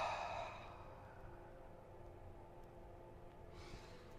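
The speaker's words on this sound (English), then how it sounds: "Some pranayama there." A long, breathy exhale during a gentle pranayama breathing exercise, close and soft, fading into quiet room tone, with another airy breath starting near the end.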